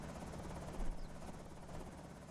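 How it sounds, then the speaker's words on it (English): A helicopter approaches in a zombie survival video game, its rotor thudding as a steady, faint pulsing drone for a couple of seconds with no voices. "The helicopter's coming."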